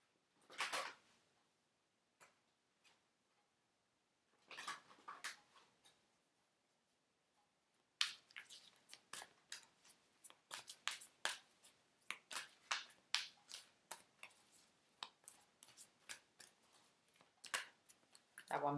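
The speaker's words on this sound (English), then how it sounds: "Let's shuffle it in." Tarot cards being shuffled by hand, a quiet run of crisp papery clicks and riffles, sparse at first and then a denser, steady flurry with no one talking.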